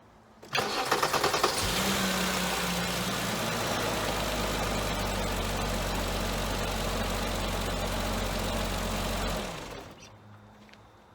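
BMW E34 M5 with the S38 engine, troubleshooting a resonance flap and lacking power, cranks and fires, then settles into a steady loud idle for several seconds before shutting off.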